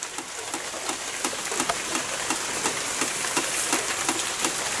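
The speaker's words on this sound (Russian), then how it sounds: "а может и не кажется, что дождь утихает." Steady rain on an August day, a continuous soft hiss of falling drops with scattered sharper taps on nearby surfaces, fairly close and even throughout, with no voices.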